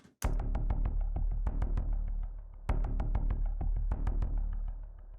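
A heavy, low synth pulses in a steady driving rhythm, with sharp percussive clicks on top, loud and continuous with no voices.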